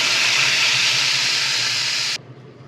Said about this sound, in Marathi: आता ही चुरचुरीत फोडणी आपण देऊन घेऊया.